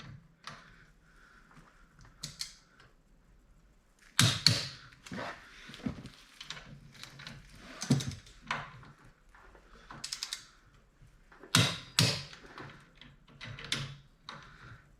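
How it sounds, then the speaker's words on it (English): Socket wrench tightening bolts on a Harley Davidson Dyna Wide Glide motorcycle during a reduced reach kit install, with clicking ratchet strokes in irregular bursts and metallic knocks, close, no talking. "make sure you're holding the socket in there when you do this, so you don't strip the head of the bolt out."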